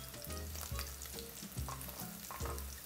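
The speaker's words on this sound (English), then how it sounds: "what I'm doing here is I want to toast the outsides a little bit" Sliced Spam crisps in a hot pan with a continuous dense sizzle, while regular low thumps and scrapes of a spatula turning the slices recur every second or so, close and without talk.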